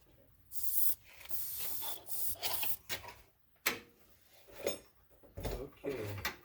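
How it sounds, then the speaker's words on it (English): Penetrating fluid sprayed from a can onto a 1963 Mercury Monterey, several faint hissing bursts of varying length with small clanks and rustling between them. "Hand me a little penetrating fluid."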